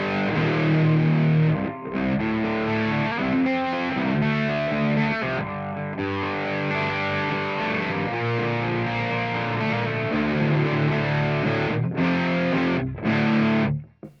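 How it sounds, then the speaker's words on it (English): An electric guitar played through a chorus effect pedal on a stereo pedalboard rings out in sustained, shimmering chords and notes, loud and continuous, with brief gaps between phrases. "Let's put the chorus on."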